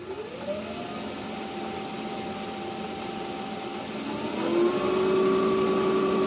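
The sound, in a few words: motor whine as speed rises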